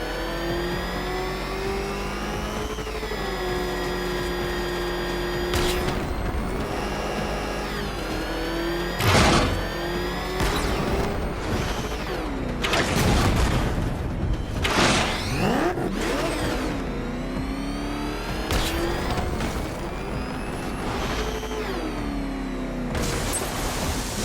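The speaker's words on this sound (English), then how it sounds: "Can that ramshackle motor handle this?" The Batmobile's engine in Batman Arkham Knight roars and revs again and again, rising and falling in pitch with sharp surges and whirring, loud and close throughout with no voices.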